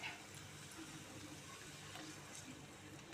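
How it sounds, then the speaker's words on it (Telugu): Water pours steadily into a pan of egg curry, a soft continuous splashing and gurgling, faint and close with no voices. "దీనిలో మనం నీళ్ళు వేసుకుందాం"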